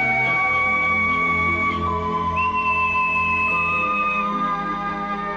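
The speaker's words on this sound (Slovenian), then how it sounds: "Ta piščal." A pipe whistle played in an animated cartoon, sustained clear tones that hold and then glide to a new pitch partway through, loud and close over a faint backing.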